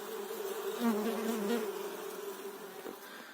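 Wild bees buzzing steadily at a pollinator insect hotel, a continuous close drone with a few louder passes and no voices.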